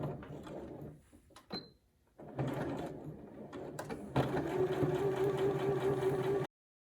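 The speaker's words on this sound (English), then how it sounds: "we are gonna go ahead and stitch again 5/8 inch seam allowance" A home sewing machine stitches a 5/8 inch seam with backstitching, running in short bursts and stops, then a longer steady mechanical hum with a whining motor tone, close and alone.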